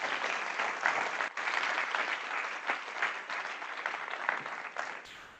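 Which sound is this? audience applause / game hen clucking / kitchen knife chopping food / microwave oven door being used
audience applause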